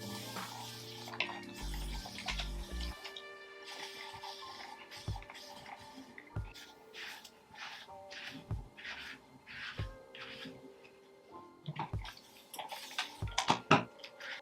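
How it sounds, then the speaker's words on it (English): Running water splashes over and soaks hair as it is wetted for styling, a steady close flow with irregular splashes and drips, no talking. "we're gonna wet our hair because it's so easy to just work with wet hair"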